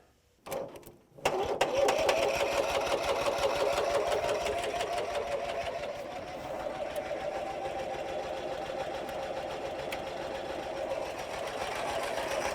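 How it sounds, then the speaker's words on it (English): The starter on an abandoned M274A2 military mule cranks the engine continuously after a short false start, a steady, loud, rhythmic whirring churn that never catches and runs on alone for about eleven seconds. "That's a long time to run a starter."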